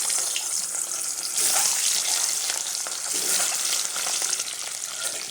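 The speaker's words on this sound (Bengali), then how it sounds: "তেল গরম হয়ে গেছে, ডিমগুলো ছেড়ে দেবো একটা একটা করে" Eggs sizzling in hot oil in a wok, a steady loud hiss of frying that carries on throughout with no talk.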